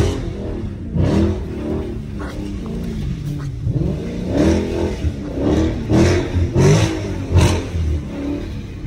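Dodge Charger SRT 392 accelerating hard in second gear, loud revving surges rising and falling in repeated bursts, close and strong throughout.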